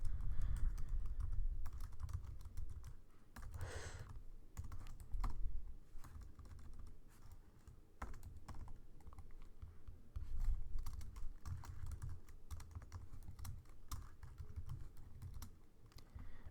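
Quiet keystrokes on a computer keyboard, irregular clusters of soft clicks over a low background hum, close to the listener and with no talk.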